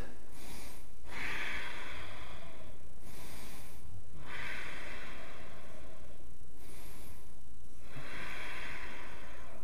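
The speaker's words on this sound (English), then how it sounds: "and breathe." Breathing during a strong yoga flow class: slow, audible breaths, each lasting about a second, come in a steady rhythm every two to three seconds, close and clear over a constant background hiss.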